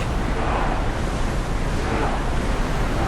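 Steady broadband roar of wind and surf at sea aboard a ship in Assassin's Creed Odyssey, a constant loud rush with no breaks across the whole stretch.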